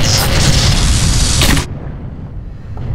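A grenade goes off in the video game Black Mesa: one loud, booming blast that roars for about a second and a half, then cuts off sharply into a quiet background rumble.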